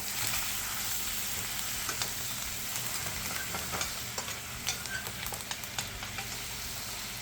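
Unsalted butter with thyme and rosemary sizzles loudly in a hot pan, a steady hiss broken by small pops and faint stirring scrapes.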